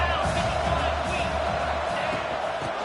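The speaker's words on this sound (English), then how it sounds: "It's early, but this crowd is fired up. Listen to this noise here." Stadium crowd in College Football 25, a dense, steady roar filling the space with no breaks, while a voice talks over it.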